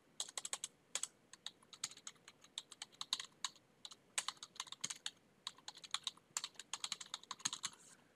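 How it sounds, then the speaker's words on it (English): Fast, uneven typing on a computer keyboard as a name is entered into a web registration form, with dense clusters of crisp key clicks and brief pauses and no voices. "I'm going to click register now, and I'll put in Jason Sellers."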